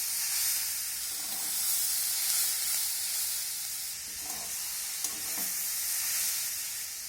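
Snake gourd frying in a pan, sizzling steadily with a broad hiss throughout, broken by a few soft scraping stirs near the end.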